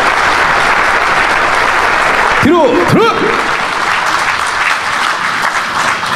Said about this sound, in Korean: 태권도 시범을 선보인 민군 통합 시범단에게 다시 한번 뜨거운 박수와